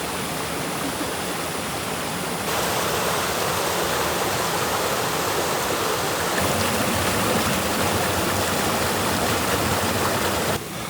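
A creek flowing near a campsite by Mount St. Helens, a constant broad rushing of water, loud and close, with no voices.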